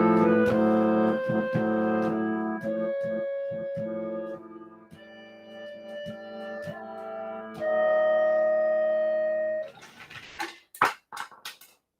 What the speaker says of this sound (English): Harmonium would be one of the instruments that we use almost all the time